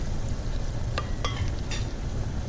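Garlic frying in a pan, a steady close sizzle with a few sharp scraping strokes as it is stirred, with no voices.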